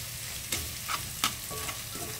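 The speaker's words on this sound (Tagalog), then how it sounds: "Totostahin lang natin yan. Lalo yung sibuyas." Onions sautéing in a pan for chicken curry, a loud continuous sizzle with scraping stirring strokes from a spatula, close up and without voices.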